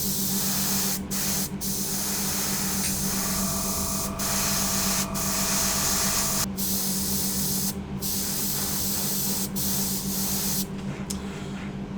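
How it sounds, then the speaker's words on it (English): Steady airbrush hiss of thinned Tamiya acrylic paint spraying at about 12 psi onto a 1/200 Bismarck model, continuous and close, with brief breaks where the trigger releases. "I'm spraying at about 12 psi."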